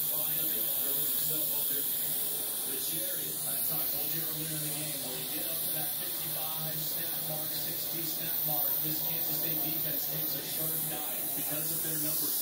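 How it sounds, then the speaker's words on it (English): Steam hisses steadily out of the release valve of an Insignia 8 quart pressure cooker in a home kitchen. It is a continuous, fairly loud hiss with some spray-like noise. "I'm not going to open it until all of the steam has been released."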